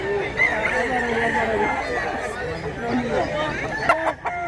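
Roosters crow at a chicken market, with overlapping cock-a-doodle calls and clucking over a steady crowd murmur and chatter.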